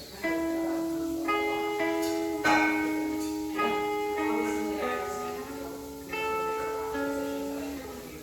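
A guitar plays an intro lick slowly, single plucked notes ringing out one after another and fading, quiet and unhurried with no talking.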